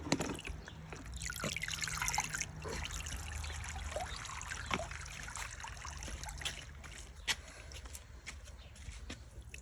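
Steady trickling, bubbling water runs throughout with scattered drips and small pops, fairly close and moderately quiet, with no voices.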